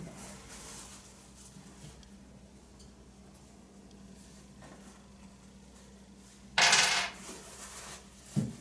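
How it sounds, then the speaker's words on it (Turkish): Coins fall from a dropped bag, making a single brief, bright metallic clatter near the end of a quiet stretch, followed by a faint rustle. "Para düşmüş"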